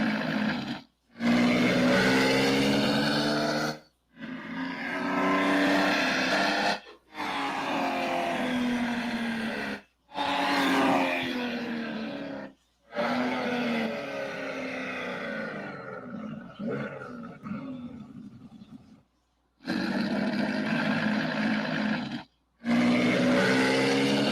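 Looped engine sound of a naturally aspirated flat-six in an RC drift setup, steady loud roaring revs in repeated multi-second bursts cut by brief silent gaps, close and alone with no talking.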